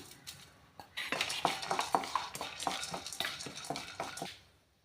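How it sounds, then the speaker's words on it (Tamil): Urad dal, black pepper and cumin dry-roast in a pan, giving a close, busy rattle of scraping spoon strokes and light crackle that fades out at the end. "நல்லா கிறிஸ்பியாக வறுத்து எடுத்துக்கோங்க"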